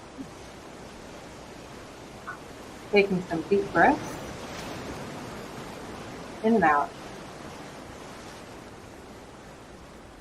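Soft, steady ocean surf washes continuously as a calm backdrop to a guided meditation, with a voice speaking quietly over it in two short bursts.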